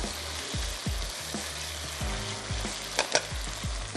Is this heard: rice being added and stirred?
yes